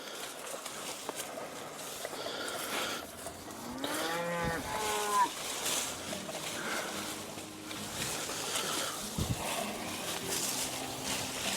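Cattle on a drought-stricken Texas ranch moo once loudly and nearby, with fainter lowing afterward over a steady outdoor background.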